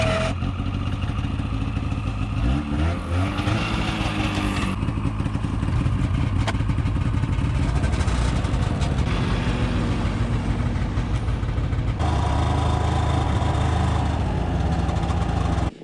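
Snowmobile engine droning loud and steady on a frozen river trail while hauling a loaded hitch, a continuous close motor roar with shifting pitch and occasional clatter throughout.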